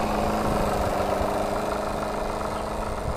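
A Martin Baylis twin marine steam engine on a clinker boat runs in a steady, close mechanical chug with a fine rapid pulsing under a constant hiss, no voices heard.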